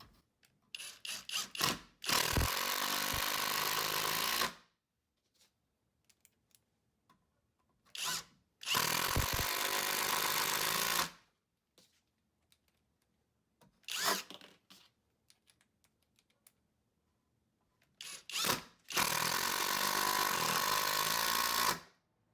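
A Skil PWRCore 12V impact driver on high with a Torx 25 bit drives a 3-inch decking screw in four loud rattling bursts, each lasting a few seconds, with near silence between them.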